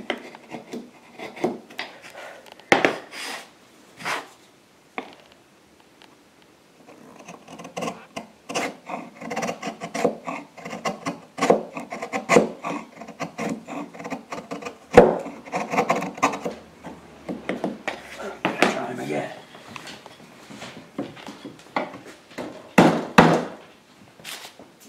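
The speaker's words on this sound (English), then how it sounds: "pare down, holding this firmly onto this scrap piece of timber, this sacrificial piece of MDF" A chisel pares a timber dovetail held down on a sacrificial piece of scrap MDF, producing close, scraping and rubbing strokes mixed with occasional light knocks, with no talking.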